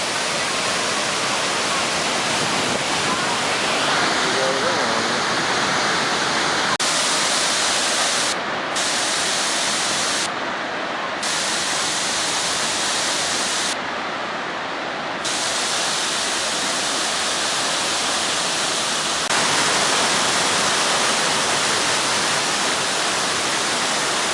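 Steady roar of a waterfall in Kunming, Yunnan, China, heard close from a path behind it, dense rushing water with no letup, loud and close throughout.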